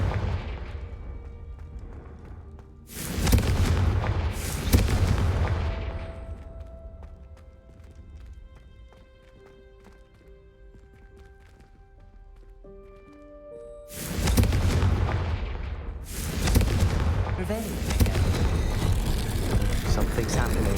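Confringo fire spell blasts in the video game Hogwarts Legacy come in two loud clusters of booming bursts, separated by a quieter stretch of soft tonal game ambience.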